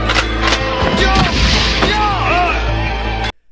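Gunfire in an action film scene: a rapid burst of sharp shots and bangs with shouting mixed in, loud and dense, ending in abrupt silence.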